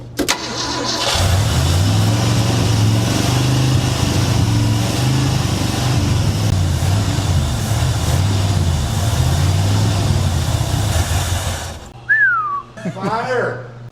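A frozen Mercury Montclair, sitting unrun for 20 years, fires up in the cold and runs at a steady, loud, close rumble for about eleven seconds before cutting off, followed by a short whistle and brief voices.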